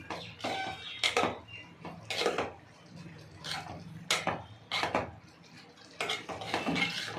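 A spoon stirs coriander, turmeric and chilli powder in a cooking pan, giving repeated metallic scrapes and clinks in irregular bursts, close by and fairly quiet, with no talking.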